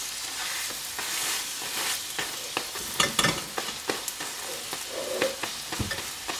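Cauliflower (gobi) paratha fries in a pan while being pressed with a spatula, giving a steady close sizzle dotted with sharp scraping taps and clicks, with no voices.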